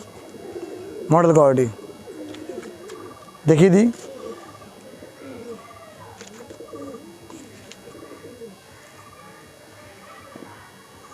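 Good-bloodline pigeons of safe quality coo at a loft, low murmuring coos recurring across the stretch with two louder bursts, under someone talking close by.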